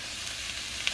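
Beef stroganoff sizzles and bubbles softly in a pan over lowered heat, a continuous close hiss with a faint pop near the end.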